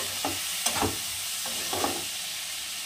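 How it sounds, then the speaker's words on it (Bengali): Spice masala with tomatoes, salt and turmeric sizzles steadily in a pan as a spatula scrapes through it in several short strokes at an uneven pace, close by, with no speech. "এখন সুন্দর করে মশলাটাকে কষাবো।"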